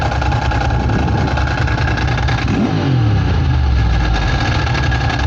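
A Ducati 900SS motorcycle engine idles steadily and loud and close, with a brief rising rev swell near the middle before settling back to an even, throbbing idle.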